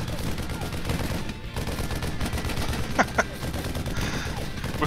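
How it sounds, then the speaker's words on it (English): A StarCraft II Marine's rifle chattering steadily at destructible rocks in a competitive match, fairly soft continuous gunfire with a couple of sharper impact cracks, faint commentary voices underneath. "And this one Marine is still shooting at those rocks."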